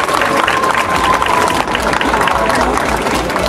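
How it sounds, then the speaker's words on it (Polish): Dense, steady applause from a crowd at an official ceremony handing over the silver UEFA trophy in Wrocław, loud and sustained for the whole stretch with murmured voices mixed in. "Gorące brawa!"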